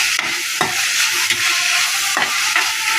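Cumin seeds hit a hot pan and crackle in a loud, continuous sizzle while a spoon stirs and scrapes at irregular moments. The sound is close, with no voices.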